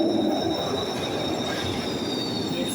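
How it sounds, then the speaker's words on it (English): A Glasgow Subway train arrives through the tunnel, a loud, continuous rumble with high, sustained wheel squeal and whine that holds steady as it draws in. "I can hear our train coming through the tunnels now"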